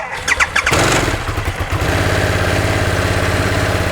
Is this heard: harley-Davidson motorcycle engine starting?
yes